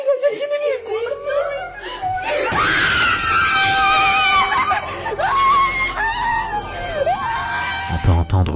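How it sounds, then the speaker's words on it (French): A scream said to come from a ghost on the far side of a room at night, loud and drawn out with wavering pitch, breaking into several wailing cries, with frightened voices talking over it. "On peut entendre le son d'un fantôme crier à l'autre bout de la pièce"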